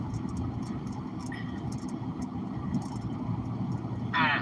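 A car drives along with a steady, low engine and road rumble heard from inside, constant and moderately quiet with no distinct events.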